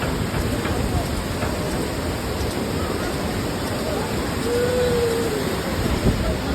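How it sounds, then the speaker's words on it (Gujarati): Steady, dense roar of the Yamuna River rushing at Yamunotri Dham fills the clip, constant and close, with a brief faint tone in the middle. "અહીંયા જો યમુના નદી, અવાજ સાંભળો ખાલી"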